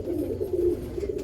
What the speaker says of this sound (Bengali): এটা হচ্ছে দেখুন রামপুরি একটা পায়রা, সম্ভবত রামপুরি আর টেডির ক্রস আছে পায়রাটা